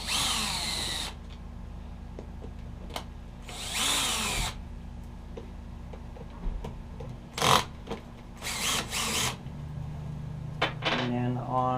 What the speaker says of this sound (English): there are 3 Phillips screws on the top here to remove. So I'll take those out first